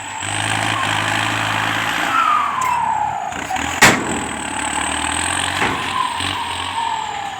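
A Ford 6610 farm tractor engine runs steadily and loud nearby, with a brief sharp knock partway through and a slight shift in pitch.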